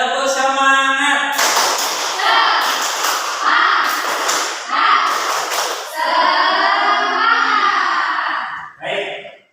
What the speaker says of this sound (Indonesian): Kurang keras, diulangi lagi. Tepuk semangat.